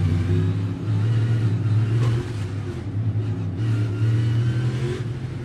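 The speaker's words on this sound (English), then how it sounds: "Car's going through the grass." NASCAR Cup Series race car at the Brickyard running through the grass, a loud sustained engine drone with steady rumbling harmonics and a slight dip in level midway, no voices.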